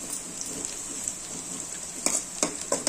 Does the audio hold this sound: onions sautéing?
yes